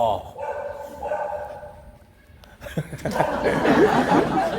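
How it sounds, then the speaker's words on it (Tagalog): A dog barks a few times amid lively chatter and laughter, the barking close and mixed in with several people talking over one another. "May aso na naman."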